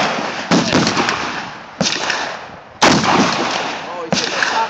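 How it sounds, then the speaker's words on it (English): An AR-15 rifle fired outdoors on a hillside: four loud, sharp shots spaced roughly a second apart, each followed by a short echoing decay. "Acquire a target before you discharge that weapon."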